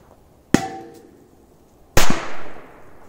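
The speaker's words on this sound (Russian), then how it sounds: "По-моему, 2 взрыва." Two sharp bangs from big Korsar-4 firecrackers about a second and a half apart, loud and close, each followed by a brief echoing tail.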